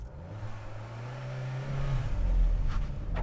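Volkswagen Golf 8 hot hatch pulling away hard from a standstill, engine note rising steadily and growing louder as it builds revs, heard from inside the car with no talking.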